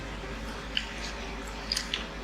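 Quiet, moist chewing of roasted chicken during a mukbang, a few soft squishy bites and clicks close to the mic over a low steady hum.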